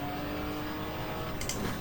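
Touring car racing out of Thruxton's club chicane during a 1987 British Touring Car Championship round, a steady loud engine drone heard from on board, with a brief higher whine near the end.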